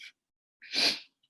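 A single sharp sneeze, close and fairly loud, following a brief faint breath, with silence around it.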